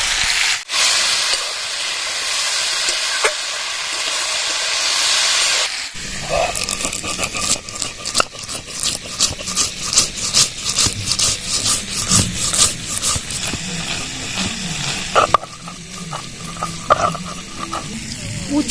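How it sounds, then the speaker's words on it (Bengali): Potatoes fry in oil with salt and turmeric, a soft hiss under repeated scraping and stirring strokes. After a quieter opening, the rhythmic rubbing becomes steady, and a voice speaks over part of it. "স্বাদ মতো লবণ দিয়ে দেবো পরিমাণ মতো হলুদ দিয়ে দেবো আর আলুটা ভালো করে ভেজে নেবো"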